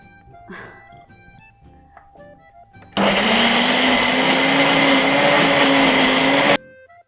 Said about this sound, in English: I've just got to blend everything till it's smooth.